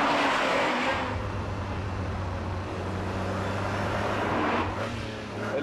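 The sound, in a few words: Ferrari Testarossa V12 engine accelerating in first gear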